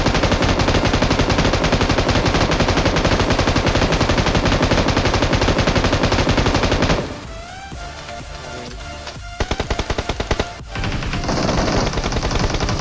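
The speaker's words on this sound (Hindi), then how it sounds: "यहाँ पे मैं चला देता हूँ M249" An M249 machine gun fires in the BGMI mobile battle royale game, loud sustained automatic bursts for about seven seconds, then a pause with a short burst of shots before heavy firing resumes.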